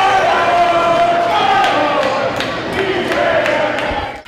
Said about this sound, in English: The crowd was fired up and stood all night as Ephrata Volleyball hosted the Othello Huskies.